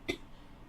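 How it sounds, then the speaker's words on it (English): A single short, faint cough, close by and alone, followed by quiet room noise. "Sorry, I'm coughing."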